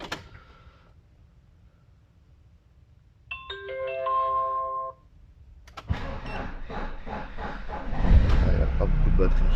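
A campervan conversion van's engine starting up after a door thud and a brief electronic chime, the motor catching and settling into a steady rumbling idle that grows louder toward the end.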